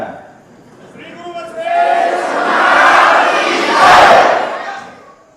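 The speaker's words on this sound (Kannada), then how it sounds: "ಎಲ್ಲರೂ ಹಾಕಿರಲ್ಲ ಜೈಕಾರ." Crowd at a religious gathering at Shri Guru Basaveshwar Virakt Math, Billur, shouting a jaikara victory chant: one voice leads, then many voices swell into a loud, sustained collective cry that peaks near the end and fades.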